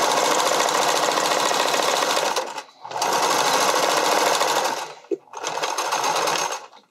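A sewing machine stitches elastic into bodysuit fabric in three long, steady whirring runs, each stopping briefly before the next, loud and close with no talk.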